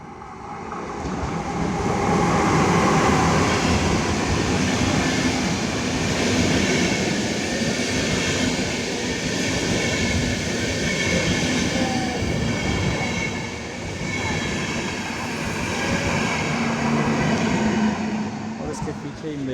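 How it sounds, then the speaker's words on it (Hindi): A train rolls past on a German railway, a loud continuous rumble of wheels and carriages with rail clatter and faint squeal, close by and sustained, easing slightly toward the end. "और इसके पीछे ही मेरी ट्रेन आ गई, ये वाली, जिस पे अभी घूमने फिरने जा रहे हैं।"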